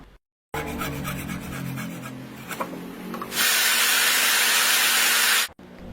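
A motorcycle spoke is cut into a pin for a shock absorber, first with a rough scraping and rubbing, then with a loud, steady hiss of cutting that ends abruptly.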